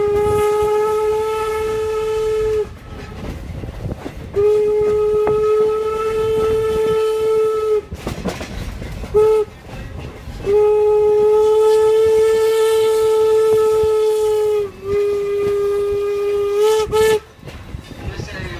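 Strasburg Railroad steam train in Lancaster County, running with a loud, close steam whistle blown in several long blasts separated by short gaps over the rumble of the moving train.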